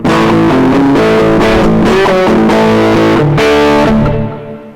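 Heavily distorted electric guitar chords ring out loud and continuous for several seconds, then decay at the end.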